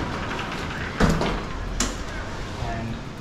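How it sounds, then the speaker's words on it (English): Large glass balcony doors of a beachfront penthouse slide open, with a rumbling roll and a couple of clunks as the panels move, while someone talks over the sound. "These glass doors open right up."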